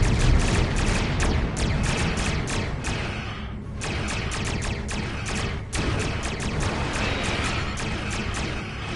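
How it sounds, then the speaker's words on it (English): A dense barrage of explosions booms and crackles through a Star Trek Online space battle, loud overlapping blasts in rapid succession with two brief dips before the firing resumes, and no talking. "Ooh, that's a lot of explosions."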